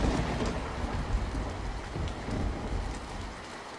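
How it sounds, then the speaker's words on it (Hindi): Heavy rain pours steadily outside and around a hut, a dense continuous hiss of drops with a low rumble beneath, loud and unbroken for the whole stretch. "सुबह के समय झोपड़ी के अंदर तेज बारिश की आवाज आ रही थी।"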